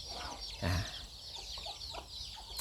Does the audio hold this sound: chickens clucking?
yes